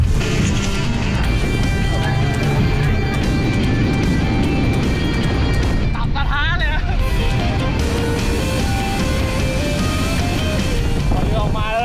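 A speedboat crosses the Andaman Sea on a half-hour run to a small island through big waves. Its engine and the wind make a loud, continuous roar, and a voice talks over it.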